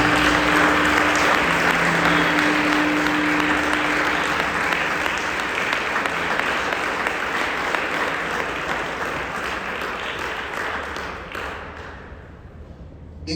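Sustained congregational applause at a church service, dense and loud clapping from many people that holds steady for several seconds, then gradually fades and thins out toward the end.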